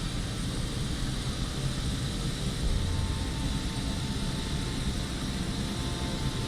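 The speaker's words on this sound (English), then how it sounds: "flying another Abel Xplore Pilatus PC-12." Steady, even drone of a Pilatus PC-12 single-engine turboprop in Microsoft Flight Simulator, a constant propeller and engine hum with no pauses or voices.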